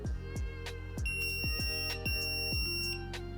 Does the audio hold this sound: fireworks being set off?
no